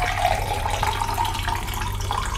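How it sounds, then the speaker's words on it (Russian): Drinking water pours in a steady, gentle stream with a faint rising tone as the container fills, close and continuous for a couple of seconds, with no talking. "Давайте еще водички нальем."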